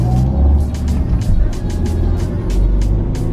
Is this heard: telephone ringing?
no